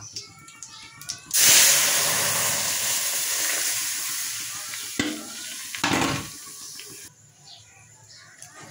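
Mung dal poured into hot tempering spices in a pan: a sudden loud sizzling burst that settles into a steady frying hiss, broken by a couple of stirring scrapes before easing off, with a voice heard briefly.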